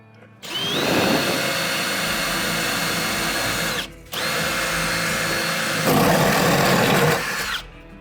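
A power drill spins a spider bit through a building's framed wall in two long sustained runs separated by a short pause, loud and close, with the pitch shifting as the bit bites into the material.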